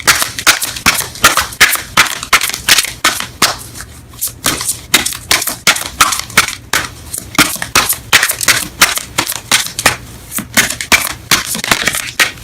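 Romance Angels tarot cards being shuffled in the hands, a steady run of crisp, close riffling and slapping bursts with brief pauses, no talking.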